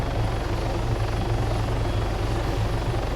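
A helicopter in the video game Arma 3 drones steadily with a continuous rotor and turbine hum, loud and close, holding level throughout with no voices.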